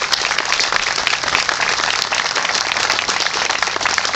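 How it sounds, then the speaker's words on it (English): Steady, dense applause from a large audience at a Memorial Hospital anniversary and Hartzell Lake dedication event, sustained and even throughout with no voices above it. "join me in giving them a round of applause for their many hours of work"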